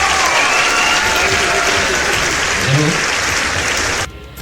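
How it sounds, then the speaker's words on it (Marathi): Loud, continuous applause from an audience at a village dance competition, the clapping holding steady and then cutting off abruptly near the end. "एकदा खरंच मनापासून समृद्धीसाठी जोरदार टाळ्या होऊन जाव्या"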